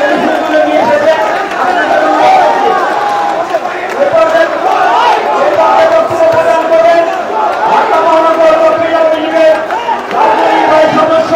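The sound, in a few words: Awami League activists chanting slogans at rally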